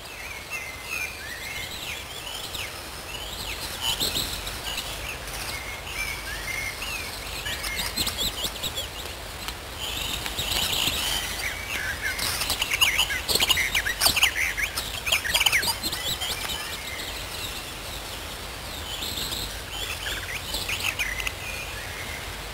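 A wood warbler sings in woodland with a good tree canopy, its high chirping phrases repeating among other birdsong and a faint insect hum, moderately distant and continuous.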